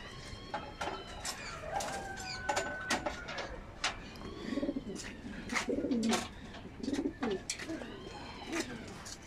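Male pigeons coo in a repeating series of soft, throaty calls, close by in a loft with other birds moving and fluttering around.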